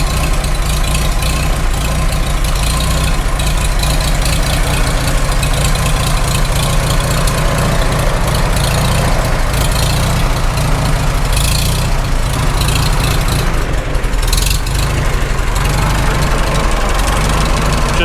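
A Farmall H tractor engine idles on its first start after a rebuild, a loud, steady, close rumble with an uneven knocking pulse running unbroken throughout, with no voices.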